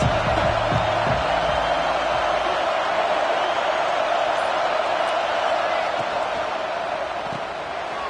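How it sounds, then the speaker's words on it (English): A stadium crowd in a college football video game, Washington hosting USC, roars steadily and loudly throughout, a dense wall of cheering with a low rumble and brief thumps early on, under commentator talk. "They challenge this crowd to bring the energy, and I'd say they're doing that."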